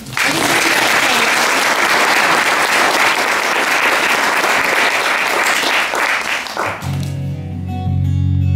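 An audience claps loudly and steadily for a performer at a folk album launch concert, the dense applause filling the room for about seven seconds before fading as a low hum and a few stray claps remain.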